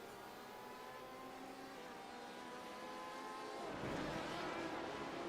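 A GT1 race car in a GT Masters endurance round accelerates hard out of a hairpin, its engine note rising and growing louder toward the end, heard at a distance over a steady trackside drone.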